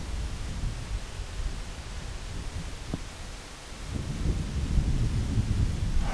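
Thunder in The Legend of Zelda: Ocarina of Time, a deep rolling rumble over steady rain-like noise, swelling louder toward the end with no talk.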